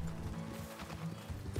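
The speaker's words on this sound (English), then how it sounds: "There's a horse right over here." Horse hooves clatter briefly while a horse neighs, the sounds layered over a dense, steady background rumble, in the roleplay game RedM.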